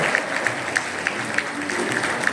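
A few people clap in a steady, sparse rhythm at a hotel anniversary celebration, the individual claps distinct over a murmuring room.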